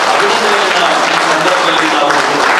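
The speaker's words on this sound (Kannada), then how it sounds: "ಎಲ್ಲ ನಿರ್ದೇಶಕರಿಗೂ ಕೂಡ ಜೋರಾದ ಚಪ್ಪಾಳೆ ಮುಖಾಂತರ" Loud, steady applause from an audience at a credit co-operative society gathering, cheering the society's directors; dense clapping from many hands runs continuously and close, with faint crowd murmur beneath.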